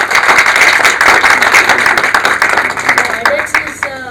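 An audience at an awareness session on ADITI and DISC XI challenges claps, loud, fairly dense clapping that thins toward the end as a voice begins to come through.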